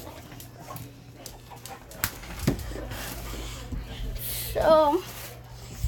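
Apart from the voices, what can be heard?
dogs whimpering and panting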